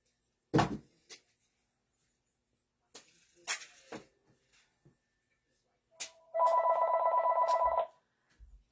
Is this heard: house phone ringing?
yes